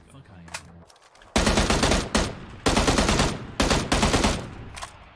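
Automatic weapon gunfire in the Apex Legends video game comes in three loud, close bursts of rapid shots separated by short pauses, after a quieter opening with faint sounds.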